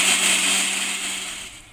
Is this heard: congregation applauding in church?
no